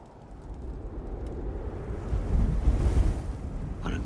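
A wind sound effect for a cold winter night in a Krampus film scene blows as a low, rushing gust. It swells and deepens toward the middle and then eases, heard alone with no talking.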